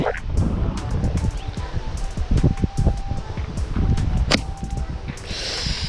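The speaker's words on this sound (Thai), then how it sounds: "โอ้ลมแรงดีจังวันนี้" Strong outdoor wind buffets steadily and roughly throughout, with scattered sharp snapping clicks from slingshot rubber bands being tested.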